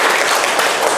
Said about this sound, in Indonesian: Ya, tepuk tangan buat.